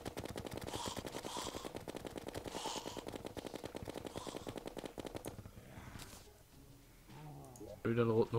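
Rapid, evenly spaced gunfire from a weapon in the Terraria video game runs steadily for about five seconds, then stops, followed by quieter game sounds and a brief voice.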